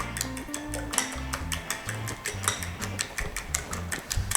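A fork beats eggs briskly in a bowl, rapid rhythmic tapping and clicking against the sides, close by, with background music playing underneath.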